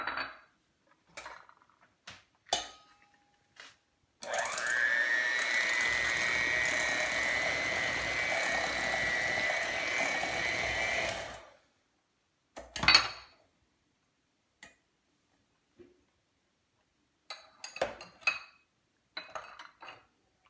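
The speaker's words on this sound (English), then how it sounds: "and we're going to add sugar. And we're going to mix." Sugar is mixed into cupcake batter with melted butter in a bowl, a steady whirring mixer run of several seconds, bracketed by scattered clinks and taps of utensils against the bowl.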